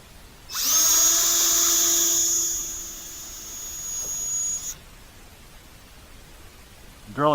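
A power drill whirs loudly for about four seconds at steady speed, then cuts off, leaving quiet with a brief noise at the end.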